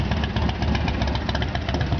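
American Ironhorse Lone Star chopper with a Kirker 2-into-1 exhaust, its engine running in a steady low, rumbling idle up close.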